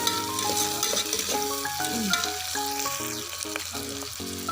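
Whole garlic cloves sautéing in a pan for bisi bele bath, with a continuous close sizzle and occasional stirring scrapes under a melodic background tune.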